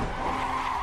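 Race car tires skidding under oversteer in the racing video game Assetto Corsa, a brief loud continuous squeal with engine noise beneath.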